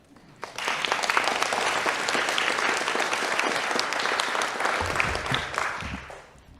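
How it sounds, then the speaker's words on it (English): A crowd at a school committee meeting bursts into a sustained round of applause for a Knowledge Bowl team and its coaches, loud and even for several seconds, with a low rumble near the end before it fades. "you can give them a round of applause"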